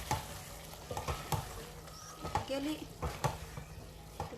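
Chopped bell peppers and onions fry in a pot of stew, a steady sizzle broken by repeated scraping stir strokes, with a brief voice in the background.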